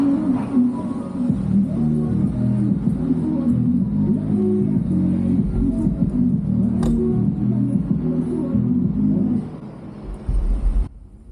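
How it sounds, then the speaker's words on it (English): A BMW car idles and rumbles just behind at traffic lights, its engine a steady close drone, settling quieter near the end. "you can hear the BMW pulling up behind me."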